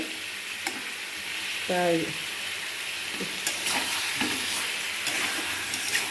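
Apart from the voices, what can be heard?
mutton being stir-fried (kosha) in a pan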